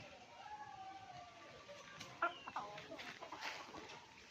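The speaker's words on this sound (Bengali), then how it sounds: "এই যে মুরগি" Free-ranging household chickens around a village home give soft, scattered clucks and a few brief calls, fairly faint, with quiet talking in the background.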